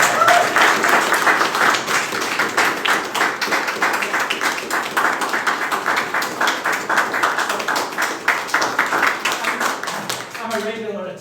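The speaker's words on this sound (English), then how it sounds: "Let's give them a round of applause." An audience at a live comedy show in Kyiv gives a steady round of dense, energetic clapping that holds for about ten seconds before fading out, with a voice starting at the very end.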